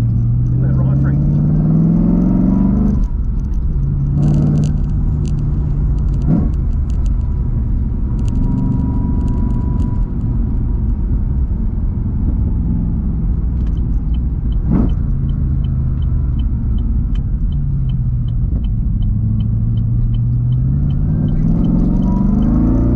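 A 1000 hp supercharged LS7 427 Holden VF SSV Redline drives hard on twisty mountain roads, its V8 loud and close with repeated rising revs, gear changes and deep rumbling throughout.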